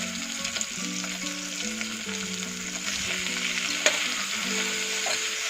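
Onions sautéing in a pan for a one-pot soya pulao give a steady, close sizzle that runs without a break, with a soft tonal hum underneath and one sharp clink near the end.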